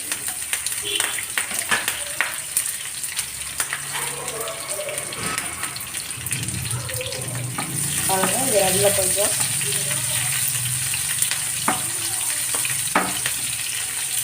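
Onions and green chillies sizzle and crackle in hot oil with fennel seeds throughout, with occasional stirring clinks and a person speaking briefly partway through.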